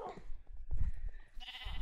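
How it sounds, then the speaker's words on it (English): Sheep bleating in the Minecraft video game, a few short nasal bleats close by, with some game noise in between. "You could hit the sheep."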